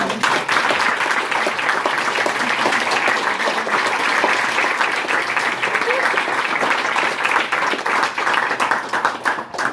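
Sustained applause from a crowd at a football banquet, steady and full throughout, with dense clapping that carries on for several seconds.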